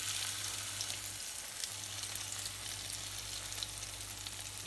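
Potato puff cakes frying in a hot pan of oil give off a dense, even hiss of sizzling that stays steady and fairly faint from start to finish, with a low hum beneath and no voices.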